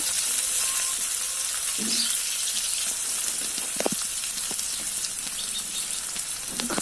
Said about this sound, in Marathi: मोहरी टाकून घेते जिरे पण टाकले कांदा पण टाकून घेते